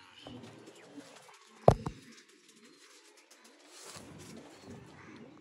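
Sialkoti pigeons cooing softly at close range, low murmuring coos scattered through a quiet setting, broken by one sharp knock or clap near the middle.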